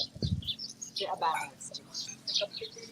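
Small birds chirp and tweet in quick, scattered bursts nearby, mixed with a low thump and light background noise.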